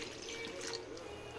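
Tamarind water poured into a pan of half-cooked fish curry, giving a steady, soft liquid splash and trickle that runs continuously at close range.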